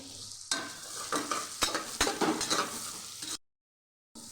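Salted onions frying in a pan until brown for egg biryani: a loud, close sizzle broken by sharp spoon-scraping strokes, then a short silence.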